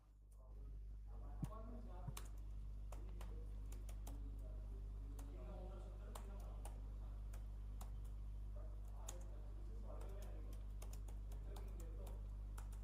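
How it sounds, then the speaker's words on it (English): Someone types a curl command on a computer keyboard during ESP32 work, giving a steady patter of light, irregular key clicks close to the microphone over a constant low electrical hum. "so again here I'm just typing"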